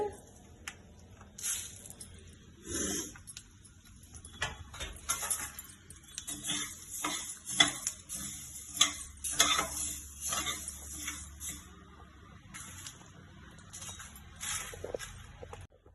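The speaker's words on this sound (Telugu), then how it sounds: "ఎండుమిరపకాయల్లోనే కరివేపాకు వేయాలండి వేగేటప్పుడు." Dried red chillies and curry leaves roast in a pan for a Guntur-style chilli powder, with faint crackling and intermittent spoon scrapes and clinks, quiet and sparse throughout.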